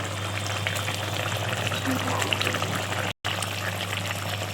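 A pot of pabda fish curry with eggplant boils steadily, a close, even bubbling and sizzling hiss that holds throughout with one momentary cutout near the end.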